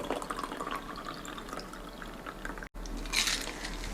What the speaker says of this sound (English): And then pour your drink over.